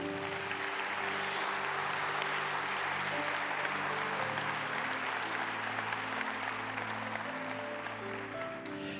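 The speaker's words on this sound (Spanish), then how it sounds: "Dale un fuerte aplauso al Señor." A church congregation gives a strong, sustained round of applause to the Lord, a thick wash of clapping running the whole time with steady instrumental music tones underneath.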